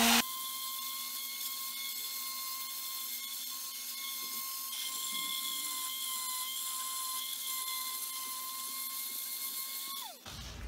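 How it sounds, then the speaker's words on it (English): Electric sanding machine running on wood while building a TV box cabinet, a steady high-pitched whine and buzz holding evenly for about ten seconds before winding down abruptly, fairly faint and with no talking. "basically you just take the sandpaper machine and turn on."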